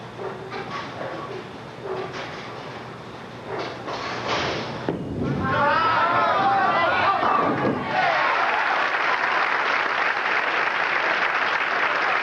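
Parents in the audience at the 1988 A&W Pro Bowlers Classic clap for tournament leader Steve Cook. A few seconds of voices and lane noise come first, then the applause swells into loud, sustained clapping.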